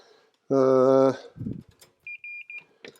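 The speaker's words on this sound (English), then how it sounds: "Continuity beep." A multimeter gives a short, clear continuity beep while wires on an arcade Ms. Pac-Man edge connector are checked. A low buzz and some handling noise precede it, and several faint, brief high tones follow.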